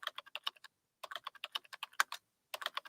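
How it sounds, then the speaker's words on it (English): A recorded keyboard typing sound plays over a phone support call: quick bursts of crisp key clicks in uneven clusters separated by short pauses, close and clear with no talk. "They actually give a fucking keyboard sound now."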